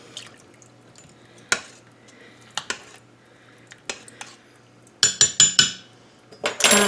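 A utensil stirs hamburger vegetable soup in an Instant Pot, giving sparse metallic clinks against the pot, then a quick burst of louder clanks near the end.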